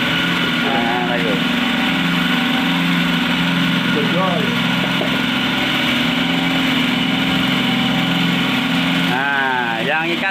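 A cotton candy machine runs with a steady mechanical hum and whir, loud and close, continuing throughout while people talk over it.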